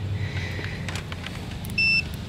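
A multimeter's continuity buzzer gives a short electronic beep once near the end, steady and high-pitched, over a faint low hum.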